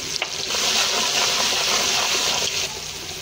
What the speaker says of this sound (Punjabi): ਲਓ ਜੀ, ਤੜਕਾ ਹੋ ਗਿਆ ਤਿਆਰ